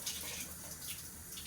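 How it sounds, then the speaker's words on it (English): Water running from a shower faucet in an accessible cruise ship cabin on Royal Caribbean's Explorer of the Seas, a soft continuous hiss and patter as sand is rinsed off feet. "The faucet here, which I'm rinsing my feet off right now from the sand in Labadee."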